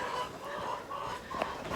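Chickens cluck and murmur softly nearby, a few short clucks rising over a low, continuous background hum.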